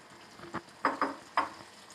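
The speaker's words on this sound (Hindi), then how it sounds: "अब है ये मेरे पास 4 अदद अंडे, इनको हम एक साथ डालेंगे।" Four eggs go into a hot pan for egg chutney, giving a few short, soft splatting hits and brief sizzles in quick succession, close and fairly quiet with no talking.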